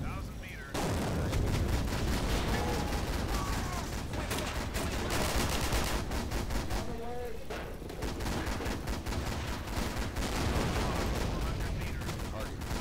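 Tank cannon fire and combat noise in the WWII tank game Steel Fury, a dense, continuous barrage of booms and crackling shots running loud throughout with no pauses.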